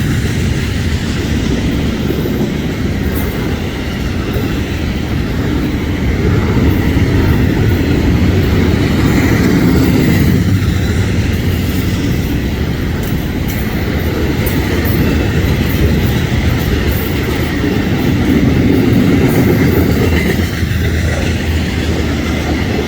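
Florida East Coast Railway FEC-105 freight train led by two locomotives, passing at South Daytona with a loud, steady roar and rail clatter that holds for the whole stretch, no voices.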